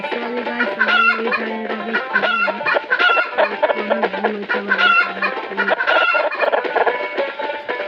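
Chickens cluck and squawk in the Stickman Party video game, a busy string of repeated clucking calls over the game's background music, with no talking.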